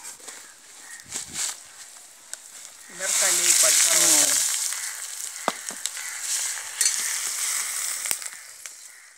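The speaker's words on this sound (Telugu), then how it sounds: "ఇంగ వేసిన తర్వాత ఆ ఇంగ బాగా నూనెలో అలా కాగితే పొంగుతుంది బాగా" Asafoetida frying and foaming in hot oil for gongura pachadi rises into a bright, hissing sizzle midway, after some soft clicks and knocks, and keeps a steady frying hiss to the end while a voice briefly speaks.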